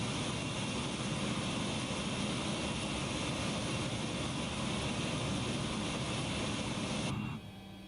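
A steady, loud, broadband roar of DC-9 jet engines in the SkySim flight simulator fills the cabin without a break, then drops sharply to a quieter hiss near the end.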